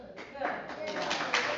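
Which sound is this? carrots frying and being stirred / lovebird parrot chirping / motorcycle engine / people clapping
people clapping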